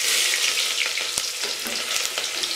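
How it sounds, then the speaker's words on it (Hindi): Onions fry in a pan for fish curry, a dense, close hissing sizzle with a few soft stirring clicks, heard alone without talk. "अब मैं इसमें प्याज डाल दूंगी।"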